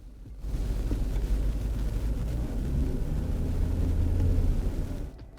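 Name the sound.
car engine revving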